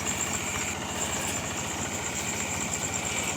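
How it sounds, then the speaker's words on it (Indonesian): A tractor engine idles steadily in a muddy rice paddy, a continuous mid-pitched chugging drone at moderate distance with no voices. "Salah satunya adalah membajak sawah dengan traktor."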